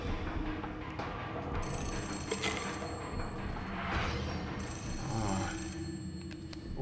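A telephone rings in the video game The Suffering, repeated bell-like trills under a dense, noisy background of game ambience with faint thuds.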